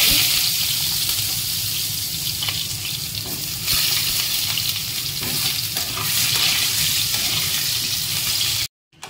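A whole potato frying in a pan while cooking jackfruit curry: steady, loud sizzling and crackling of oil that runs unbroken, then cuts off abruptly near the end.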